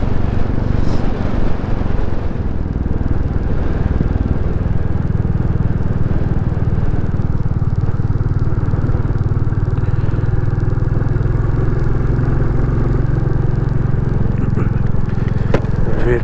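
A Royal Enfield Classic 350 rumbles steadily while ridden along a rural valley road, its engine and exhaust a loud, continuous low drone with some wind and road clatter mixed in.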